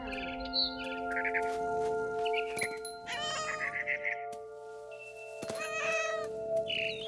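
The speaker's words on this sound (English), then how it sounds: "I was a cat." A cat meows repeatedly in What Remains of Edith Finch, several loud, clear, drawn-out calls over a steady ambient hum, with faint bird chirps mixed in and no speech.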